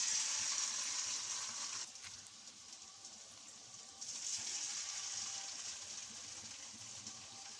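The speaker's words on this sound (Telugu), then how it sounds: "ఇలా వేసుకొని మీడియం ఫ్లేమ్ వేసుకుంటూ ఇలా ఫ్రై చేసుకోవాలి" Mysore bonda dumplings deep-frying in oil over a medium flame, a steady, close hissing sizzle that eases briefly and then swells again, with no talking.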